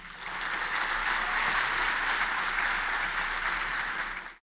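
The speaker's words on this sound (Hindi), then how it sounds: "ताली तो बजा दी आपने" Audience applause at a motivational lecture, a dense, even clapping from a large crowd that holds steady for about four seconds and then cuts off abruptly.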